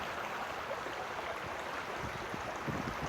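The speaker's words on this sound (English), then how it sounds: "Water in motion." Water flows along a stream with an even, close rush and bubbling, constant throughout with small splashy surges and nobody talking.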